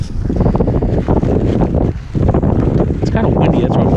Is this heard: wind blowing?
yes